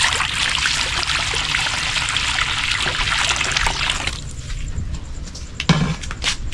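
Water trickling steadily for about four seconds, fairly loud and close, then stopping, followed by quieter room sounds and a brief thump.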